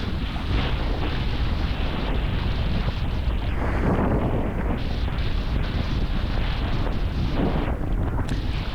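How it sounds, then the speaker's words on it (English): Strong wind buffets the microphone while kitesurfing near the jetty at Jetty Park in Fort Pierce, Florida, a loud, continuous roar with gusty surges throughout and no speech. "I mean, for how windy it is and the surf conditions"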